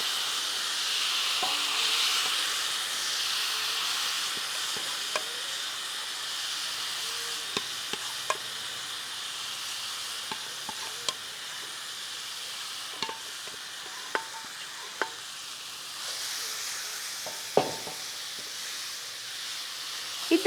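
Green gram dropped into hot oil with curry leaves, mustard seeds and chilli sizzles in a steady loud hiss, with occasional spoon clicks against the pan and no talking.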